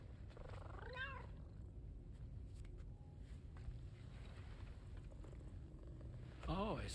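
A cat purrs in a low, continuous rumble close by, with a short rising meow near the start and another at the end.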